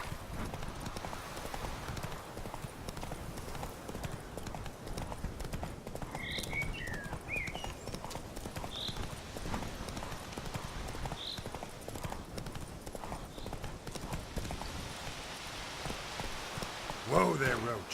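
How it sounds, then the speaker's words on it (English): Roach, the horse in The Witcher 3, clip-clops along at a steady gallop with faint rain pattering behind, a moderate, continuous hoofbeat rhythm that ends with a brief louder burst as someone speaks. "Whoa there, Roach."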